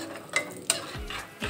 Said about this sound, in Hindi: और ये बादाम, काजू, और इसको हल्का सा भून लेते हैं